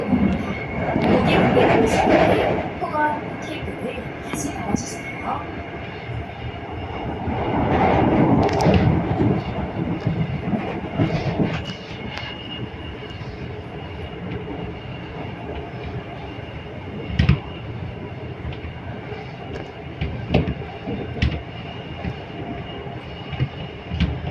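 A Gwangju Metro 1000 series subway train runs steadily with a continuous rumbling drive noise, wheel clatter and occasional sharp clicks, heard from inside at a consistent moderate level.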